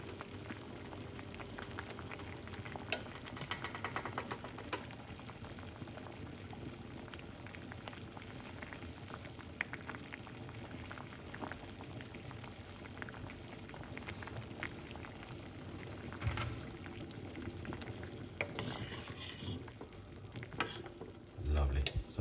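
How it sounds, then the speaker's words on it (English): Water boiling in a pot on the cooker, a quiet continuous bubbling and crackling simmer heard close up with occasional stirring knocks and clinks. "Just get it boiled for a bit."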